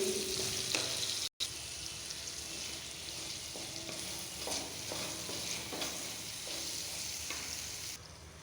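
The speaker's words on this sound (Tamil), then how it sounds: "பச்சை வாசம் போக நல்லா வதங்கணும் ஸ்லோ ஃப்ளேமில்" Green tomatoes sautéing in a pan over a slow flame for green tomato chutney, with a steady low sizzle and occasional soft stirring scrapes throughout, apart from one brief dropout near the start.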